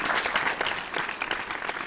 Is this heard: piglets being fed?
no